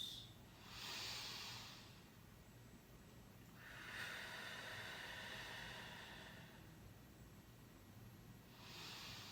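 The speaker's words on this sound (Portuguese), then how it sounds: "eu vou fazer agora a respiração para que vocês possam ver" Slow diaphragmatic breathing, three long audible breaths with rushing airflow, each swelling and fading over a couple of seconds, soft and close with no talk.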